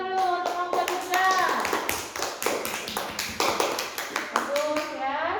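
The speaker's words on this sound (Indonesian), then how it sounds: "Oke, beri tepuk tangan dulu untuk kelompok Dirga." Children in a classroom clap for a group, a brisk run of hand claps close by, mixed with young voices chattering and chanting over the applause.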